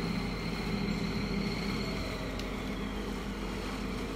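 A heavy 8x8 truck pushes into water in the MudRunner game, a dense, unbroken rumble with wash-like hiss holding steady throughout.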